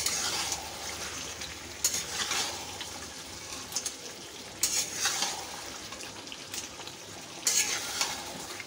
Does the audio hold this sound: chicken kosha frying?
yes